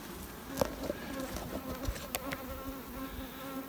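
A dense swarm of honeybees drones around open beehive frames on a hot, muggy day, a steady close buzz with individual bees zipping past the listener now and then.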